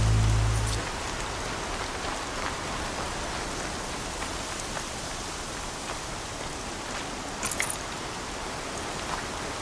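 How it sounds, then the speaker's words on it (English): Steady heavy rain in the Horizon Zero Dawn video game pours as a dense, even hiss, with a brief low thud at the start and a faint pattering flicker later, no voices. "Rain's too loud to hear much."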